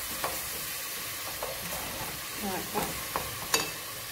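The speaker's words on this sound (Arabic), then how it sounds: "يتقلاو شويه" Chicken fries with spices in a pot for kebab in red sauce, a steady close sizzle broken by several soft stirring scrapes and clinks toward the end, with no talking.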